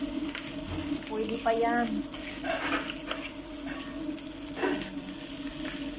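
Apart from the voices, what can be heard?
leg of mutton frying in oil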